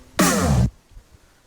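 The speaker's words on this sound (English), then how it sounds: "the impact is just this drum and this little scratching effect" A single short, punchy drum hit with a brief scratchy texture layered over it, a progressive house impact sound, lasting about half a second before fading to quiet.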